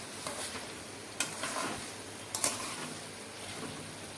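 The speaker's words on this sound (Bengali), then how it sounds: "আবারও একটু নেড়ে চেড়ে নিচ্ছি" Ridge gourd curry frying in a pan is stirred with a spoon, a gentle sizzle under a few sharp scraping clicks against the metal and soft squishy turning sounds, close and quiet, with no speech.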